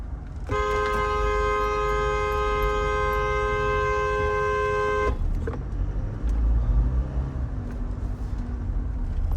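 A loud, sustained car horn blares at animals on the road for several seconds, then stops, leaving traffic and engine noise.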